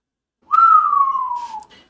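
One person whistles a single sustained note that slides slowly downward for just over a second. The note is clear and close, and no one talks over it.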